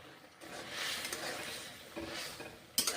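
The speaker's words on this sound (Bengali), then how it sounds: "নেড়ে চেড়ে রান্না করছি" Drumstick (sajne data) dal stirred in a pot while cooking, with soft scraping swirls and low sizzling in a couple of brief waves, ending in a sharper clink, faint and close.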